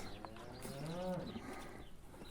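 A calf recently separated from its suckling mother lets out a single drawn-out moo, fairly close and loud, rising and falling over about a second against quiet farmyard background.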